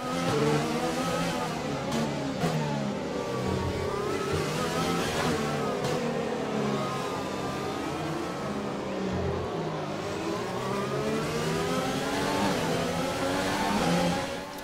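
Formula 1 race car in F1 2020 on its last lap with fully worn tires, engine screaming continuously with rising and falling revs through gear changes, loud and close throughout.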